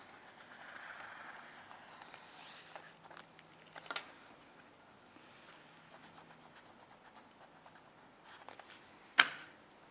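A pencil draws an ellipse on paper, a faint scratchy rubbing that runs across the quiet room, with a couple of small knocks and one sharp louder tap near the end.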